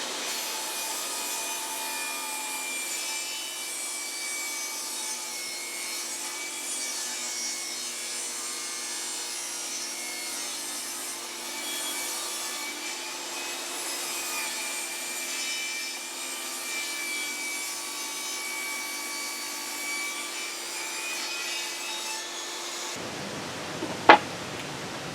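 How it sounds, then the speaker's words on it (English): A hand saw cuts a thin edge off a weathered pallet board with the nails already removed, a steady continuous rasp of the blade running for over twenty seconds before it stops with a sharp knock. "Just going to take off this little edge right here."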